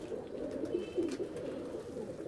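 Pigeon held in hand, a show bird with purple legs, cooing in soft low repeated murmurs, faint and steady with no talk.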